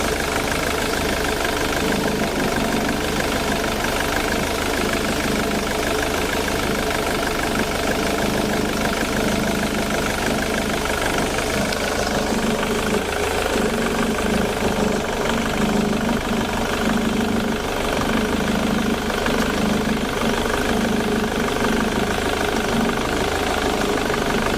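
A vehicle engine idles steadily during a fuel injector test, a continuous mid-pitched rumble with a faint rhythmic ticking that holds even and close throughout, with no talking.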